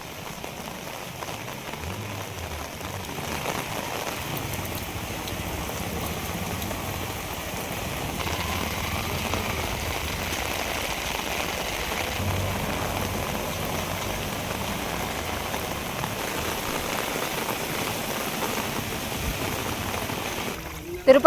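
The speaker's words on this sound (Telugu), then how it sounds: "ఉరుములు మెరుపులతో కూడిన భారీ వర్షం కురిసింది." Heavy rain pours down in Tirupati during a thunderstorm, a dense, continuous hiss of drops on hard surfaces and streets that holds steady for over twenty seconds and ends in a brief louder burst.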